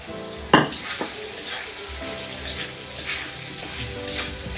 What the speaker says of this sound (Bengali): মুসুরির ডাল দিয়ে আমি আর একটু ভালো করে নাড়াচাড়া দিয়ে নেব